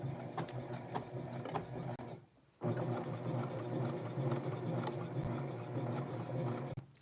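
A sewing machine stitches the collar of a Barbie doll's Western blouse, running as a steady close mechanical whir with one brief pause and a quick restart near the end.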